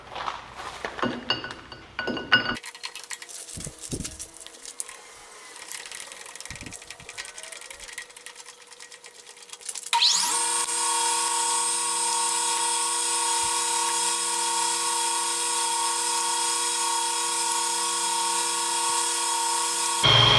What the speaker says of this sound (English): I've never actually turned a hydraulic cylinder rod.